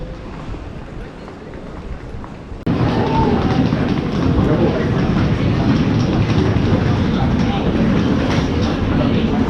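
A Dutch train heading to Amsterdam Central Station rumbles along the rails with a steady, loud roar heard from inside the car, the noise jumping up abruptly partway through.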